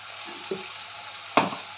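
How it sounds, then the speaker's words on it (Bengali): Potatoes fry in a pan for egg biryani, making a quiet, steady sizzle broken by two short clatters of a utensil. "এবার আলুগুলোকে ফ্রাই করব।"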